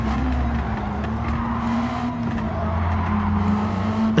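A Mazda CX-30 lapping a track in Gran Turismo 7, its engine droning steadily at a sustained pitch with tire noise underneath, loud and close with no talking.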